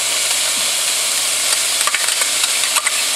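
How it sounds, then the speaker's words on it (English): Chopped onions and celery sweating in a pan, a steady loud sizzle with faint stirring clicks and scrapes near the end, no voices. "so let's get the onions and the celery"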